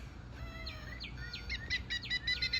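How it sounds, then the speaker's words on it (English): Small birds chirping and singing in a rapid series of bright, repeated notes that grow louder and more insistent toward the end, fairly close against a quiet outdoor background with no voices. "These are birds."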